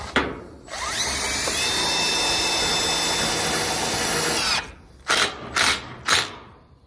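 Power drill driving screws fitted with washers into pole barn metal roofing, one long continuous whine followed by three short bursts of drilling, loud and close with no talk.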